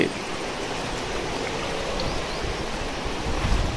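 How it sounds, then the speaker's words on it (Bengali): Water from the Langlok waterfall and its stream in Thanchi, Bandarban, rushes steadily in a dense, broadband roar that stays close and loud for the whole stretch, with no voices. "এইদিকে আপনার লাংলোক ঝর্ণা"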